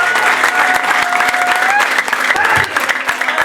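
A congregation applauds in a dense, continuous wash of clapping during a church prophecy service, with a voice and musical tones running over the top throughout.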